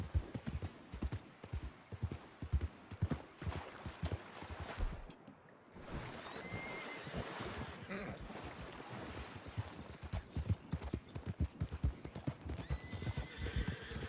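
Horse hooves clip-clop steadily in Red Dead Redemption 2, with a horse neighing and whinnying partway through and a brief pause before the hoofbeats resume.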